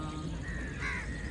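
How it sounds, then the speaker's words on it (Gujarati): A single crow caws briefly at Sarthana Nature Park, a short harsh call over steady outdoor background noise. "કાગડો"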